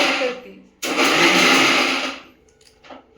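A kitchen mixer grinder whirs loudly, cutting in abruptly and running for over a second before winding down, with people talking and cooking around it.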